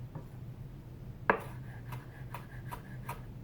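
A knife slices through rolled, stacked basil leaves on a cutting board, giving one sharp cut followed by a series of soft, evenly spaced taps, close and quiet with no talk.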